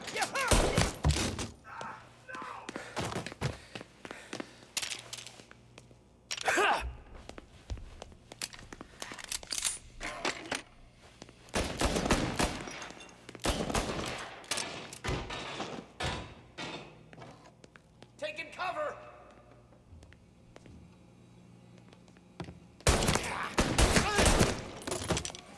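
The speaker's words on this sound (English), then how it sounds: "Who's he shooting at?" Scattered bursts of gunfire in the crime game Mafia: Definitive Edition, loud volleys and single shots spread through a chaotic shootout, mixed with game voices and an excited person talking.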